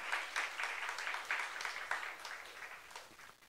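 A church congregation at a youth service applauds, with faint, distant clapping that stays steady and then tapers off slightly.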